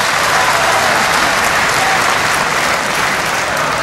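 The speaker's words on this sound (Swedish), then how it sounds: "Och applåd Oskar på Vångavallen." Stadium crowd applauding at the Vångavallen football ground during a Trelleborgs FF versus Djurgårdens IFC Allsvenskan match; a broad, steady wash of distant clapping with crowd noise that continues throughout.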